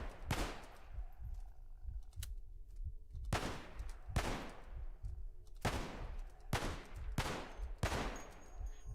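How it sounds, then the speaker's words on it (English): Repeated gunfire from Cataclysm: Dark Days Ahead, heard as loud booming shots in rapid bursts and single cracks, each ringing out into a short tail, spread evenly across the stretch without voices. "now we're just whipping out our gun and firing at anything that's still coming our way after all of that"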